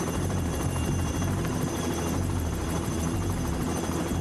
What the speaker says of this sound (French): au milieu du puissant courant descendant créé par l'hélicoptère